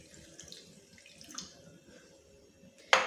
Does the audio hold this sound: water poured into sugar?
yes